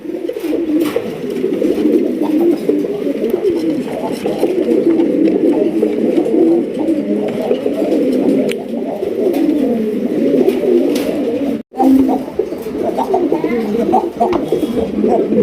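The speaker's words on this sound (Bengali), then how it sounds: "দেখেন ডাকের কি চোট রাজগোল্লা কবুতরের কালেকশন" Raj Golla pigeons coo continuously and loudly at close range, a dense overlapping chorus of throaty calls from a loft collection of breeding birds, with a brief dropout near the end.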